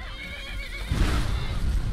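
A wild horse in Skyrim whinnies loudly and close, a shrill neigh followed by snorting and hoof noise, with no talking.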